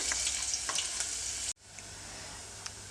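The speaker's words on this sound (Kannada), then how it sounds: "ಈರುಳ್ಳಿನ ಹಾಕ್ಕೊಳ್ತಾ ಇದ್ದೀನಿ ಈರುಳ್ಳಿನ ಒಂದು ಎರಡು ನಿಮಿಷ ಫ್ರೈ ಮಾಡ್ಕೊಳ್ಳಿ" Chopped medium onion frying in oil with mustard and cumin for a bitter gourd stir-fry, a steady hiss of sizzling with faint stirring clicks that cuts off abruptly halfway, then resumes quieter.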